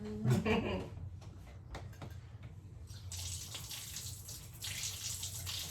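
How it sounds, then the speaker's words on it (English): Liquid draining from a container, a continuous close watery trickle and gush with scattered clunks, running under background voices. "we'll let that drain out"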